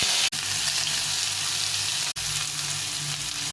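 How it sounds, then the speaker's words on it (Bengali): Ridge gourd frying in a pan for dal gives a continuous close sizzle, broken by two brief cut-outs, with no talking. "একদম গলে ভেজে নেব।"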